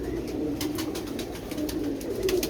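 A pigeon coos repeatedly in a series of low, rolling calls close by, with faint background noise and no talking.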